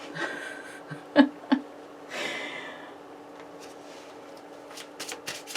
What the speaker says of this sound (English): I'm shuffling all the cards as we go.